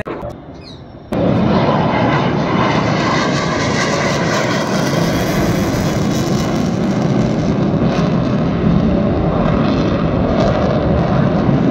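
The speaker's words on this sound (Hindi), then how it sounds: "हाँ ये लड़ाकू विमान है।" A fighter jet flying over an airshow in Prayagraj, a loud sustained broadband engine roar that surges in abruptly and holds strong throughout.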